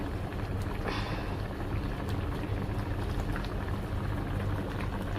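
Katla fish curry with beans simmers in a pan, giving a steady soft bubbling hiss that runs continuously and evenly at close range, with no talking.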